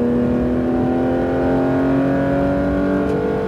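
A Porsche GT3 accelerates on a race track, its engine holding a loud, steady, rising drone with strong harmonic tones close to the car and no voices.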